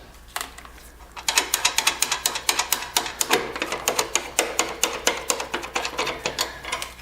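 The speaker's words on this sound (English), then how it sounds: "And you just simply unscrew it like that." Nut being unscrewed with a ratchet while fitting light guards to a Kubota BX tractor: a rapid, even run of close, crisp mechanical clicks that starts after a short pause and continues steadily, with no talk.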